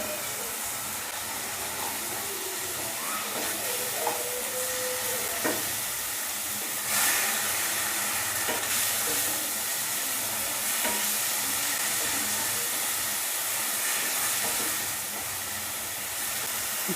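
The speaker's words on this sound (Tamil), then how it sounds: "இஞ்சி பூண்டு பேஸ்ட்டு ஒரு 1/2 ஸ்பூனு அப்படியே போட்டு வதக்கிடுவோம்." Curry leaves and ginger garlic paste sauté in a pan for a pasta dish, a soft, steady sizzle with occasional stirring scrapes and clinks, fairly quiet and without talk.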